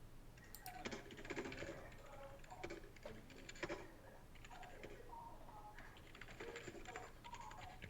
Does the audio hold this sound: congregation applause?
no